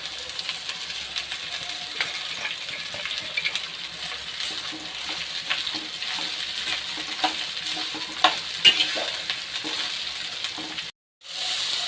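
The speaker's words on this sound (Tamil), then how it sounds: "வெங்காயம் நல்லா வதங்கட்டும்." Onions sizzle and fry steadily in a pan while green chillies and salt cook for a cabbage fry, a continuous crackling hiss with occasional stirring clinks, close and fairly loud, broken by a brief silence near the end.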